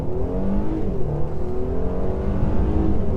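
A 2019 Mercedes E450 4MATIC coupe launches hard, its engine revving and rising steadily in pitch, heard loud from inside the cabin for a few seconds.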